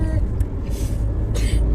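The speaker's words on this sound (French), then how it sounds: "Il y a les travaux partout ici. Oui. Des camions." Trucks at roadworks rumble nearby in a deep, steady drone, with brief hissing bursts like air brakes rising over the engine noise.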